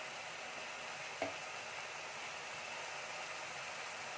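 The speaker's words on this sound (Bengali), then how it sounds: "টমেটো, পেঁয়াজ আর কাঁচা মশলা সব সুন্দর করে ভাজা ভাজা হয়ে এসেছে। আরেকটু ভাজা হবে।" Tomato, onion and fresh spices frying for chicken kosa give a soft, steady sizzle throughout, with a single light clink of a spoon early on.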